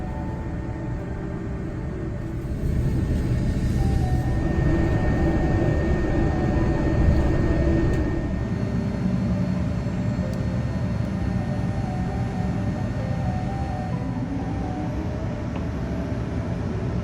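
Steady low cabin drone inside a Japan Airlines Boeing 787 Dreamliner during pushback at Tokyo, a continuous rumbling hum that swells slightly after a few seconds and holds steady, with no speech.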